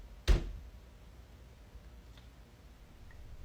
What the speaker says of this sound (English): a knocking sound started playing at the basement door